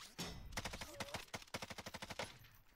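Rapid bursts of gunfire crackle in a video game shooter match, with dense rhythmic automatic shots in quick succession, fairly faint overall.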